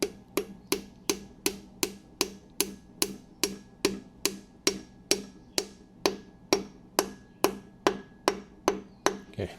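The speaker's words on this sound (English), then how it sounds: "And then tap it up." A part being tapped into place on the bottom end of a 1967 Triumph Spitfire Mk3 engine, with about twenty sharp, evenly spaced metallic knocks in a steady rhythm, close and clear with no talk.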